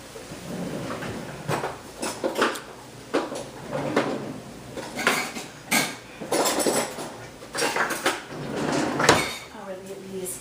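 Garlic stirred in a pan with chicken, heard as repeated clattering scrapes and knocks of a utensil against the pan in uneven bursts, close and fairly loud, with a voice speaking intermittently between the strokes.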